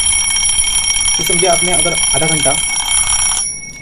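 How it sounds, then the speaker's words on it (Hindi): A twin bell alarm clock rings with a continuous, loud metallic trill that stops near the end, while someone talks over it. "कि जब अलार्म बजता है तो ये क्लॉक बंद पड़ जाता है।"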